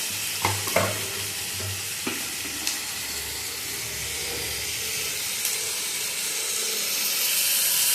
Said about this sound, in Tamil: தக்காளி போட்டு நல்லா ஃப்ரை பண்ணலாம்.